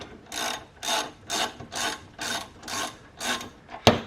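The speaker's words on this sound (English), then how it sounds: "we can take the socket and the ratchet, and we can tighten those caliper bolts back up" Socket ratchet clicking in even, repeated strokes while tightening brake caliper bolts on a Honda CBR600RR motorcycle, about eight close rasping bursts ending in a sharp click.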